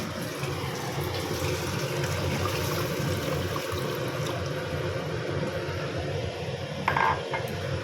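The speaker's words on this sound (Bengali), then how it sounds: "আর একটু জল দেবো জল গরম করে রেখেছি গরম জলই দেবো" Hot water poured steadily into a pan of paneer, potato and cauliflower curry, a continuous close trickling and splashing with a brief clink of metal near the end, and no voices.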